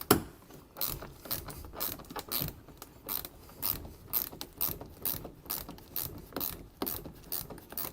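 Ratchet wrench loosening bolts on the underside of a Ford Transit van, rapid clicking bursts repeating in a steady back-and-forth rhythm, close and clear with no talking.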